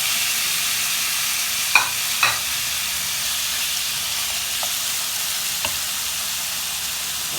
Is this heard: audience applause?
no